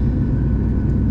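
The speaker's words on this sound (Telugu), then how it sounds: "అక్కడ కొంచెం డిస్టెన్స్లో చిన్నది ఫ్లైట్ అన్నమాట." A small private jet flies at a distance, heard as a steady, even low rumble that holds throughout with no voices.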